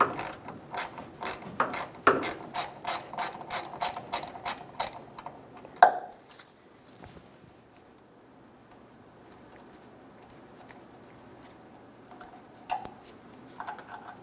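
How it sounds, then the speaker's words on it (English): A hand ratchet backs out a 10mm ground-strap bolt at the fuel filler neck of a 2014–2018 Chevrolet Silverado 1500. It gives a close, rhythmic run of clicks for about five seconds, then near silence. "Go ahead and remove that bolt."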